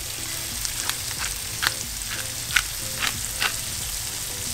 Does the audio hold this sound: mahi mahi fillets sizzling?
yes